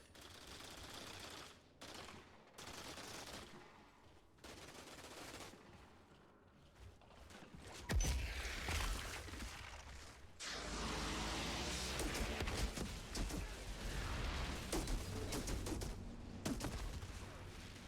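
Gunfire from the video game Outriders, with sniper rifle shots amid bursts of rapid automatic fire, loud and dense through the second half after a quieter stretch of scattered shots.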